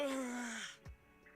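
A drawn-out vocal yawn from a voiced character in the game Zenless Zone Zero, sliding downward in pitch and fading. A short breathy sound follows and then goes quiet.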